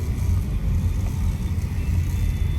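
Heavy Manila road traffic crawls in a jam, a dense, close, low engine rumble that drones steadily with slight rises and dips, with no clear horns or talking.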